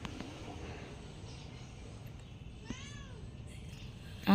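A domestic cat meows once, clearly and fairly close, over low room noise, with a sharp knock or thump at the very end.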